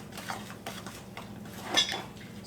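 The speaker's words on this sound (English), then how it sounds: "You just want to mix this real good" A spoon scrapes and clinks lightly against a bowl while biscuit ingredients are mixed, soft irregular knocks and scrapes up close with no talk.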